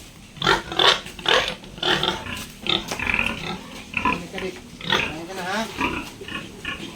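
A five-month-old gilt on a pig farm grunts and snorts in a busy, continuous stream while drinking water mixed with seeds, close by and fairly loud, with a person talking over it.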